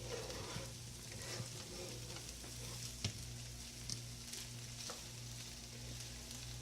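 Fried rice sizzles and crackles steadily in a pan over low-level hum, with a few scattered scraping stirs and clinks; no one speaks.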